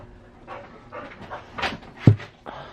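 Pet dog panting in quick breathy bursts indoors, with a few whimpers and one sharper yelp, fairly close and agitated.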